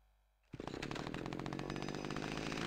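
A chainsaw in a video game kicks in after a brief quiet moment and runs as a loud, steady, close buzzing drone to the end.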